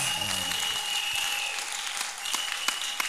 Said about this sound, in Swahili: Kama tutaweza kupika makofi juu ya Yesu. Si nous pouvons acclamer le Seigneur.